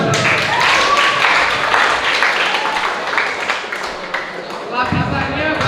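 An audience at a dental health talk in a clinic claps, the applause mixed with a voice and some crowd murmur, thinning out toward the end.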